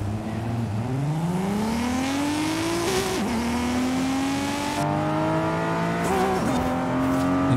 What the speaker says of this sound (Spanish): El motor se oye bravísimo, La Bernie.